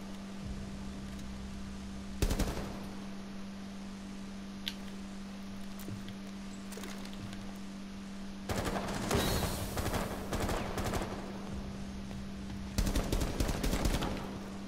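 Bursts of automatic gunfire in the tactical shooter Rainbow Six, with a short volley early on and two longer sustained sprays later over a steady background hum.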